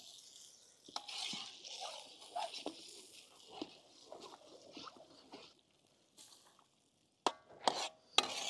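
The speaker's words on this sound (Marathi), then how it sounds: "300 अंडे, व्यवस्थित मिक्स करून घेऊ" Three hundred beaten eggs, ten trays' worth, poured into a large pan and stirred for Maharashtrian village-style egg thecha bhurji. Close, steady scraping and sloshing with a wet patter, a brief lull, then a few sharp, louder clanks near the end.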